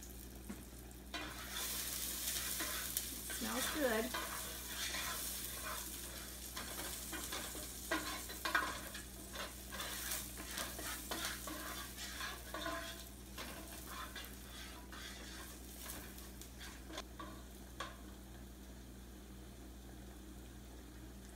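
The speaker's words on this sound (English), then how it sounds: "Hot enough, I can hear it sizzle." Gentle sizzling and crackling from garlic in a hot pan, with occasional stirring scrapes and a brief spoken remark partway through.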